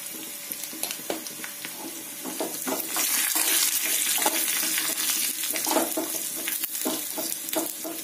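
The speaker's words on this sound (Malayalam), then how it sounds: "ഇതിലേക്ക് തന്നെ കറിവേപ്പിലയും ചേർക്കാം. ഇനി ഇതിലേക്ക് നമുക്ക് ഒരുനുള്ള കായപ്പൊടി കൂടി ചേർക്കാം." Curry leaves and a pinch of asafoetida crackle and sizzle steadily in hot oil while being tempered for sambar, with occasional stirring and clinks of a spoon against the pan, no talking.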